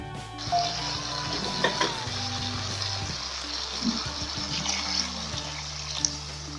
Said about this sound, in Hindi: अब हम इसमें जिस पानी में हमने चने बॉयल किए थे उस पानी को तकरीबन हमने 2 कप जो है वो बचा दिया था वो इसमें ऐड करेंगे